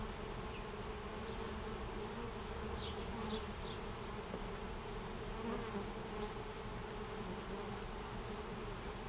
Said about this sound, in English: This one's got bees on it.